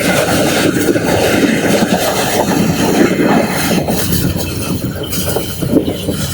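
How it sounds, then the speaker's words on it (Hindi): A passenger train runs at full speed on a double-track main line in Pakistan, a loud, continuous rumble with rattling wheels on the rails heard from inside a coach. "माशाल्लाह ट्रेन भी अपनी पूरी रफ्तार के साथ चल रही है"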